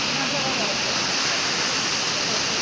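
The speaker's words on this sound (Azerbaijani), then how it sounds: "Dustaqxana şəlaləsi məncə görməyə dəyər" The Dustaqxana waterfall in Astara roars close by as a dense, unbroken wash of falling water, loud and steady throughout.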